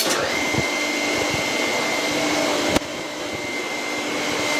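A 1909 Zèbre vintage car engine runs with the clutch engaged, a steady, loud mechanical drone broken by one sharp click near the end, with no talk.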